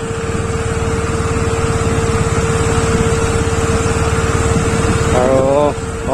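A motorbike engine labours steadily while riding up a rough off-road hill road near Nagaon, Assam, a continuous close drone with a brief revving change near the end and voices talking over it.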